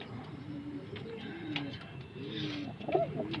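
Female fancy pigeons cooing softly in a loft, low rolling coos repeating close by over a quiet background murmur.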